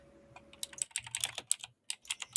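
Rapid typing on a computer keyboard, dense bursts of close key clicks with brief pauses between runs, heard alone.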